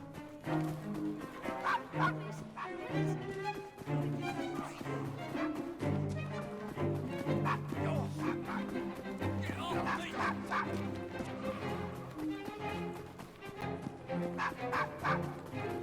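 A dog in a Victorian London street scene barks and yips in short repeated bursts, close up, over a dense bed of music and game ambience.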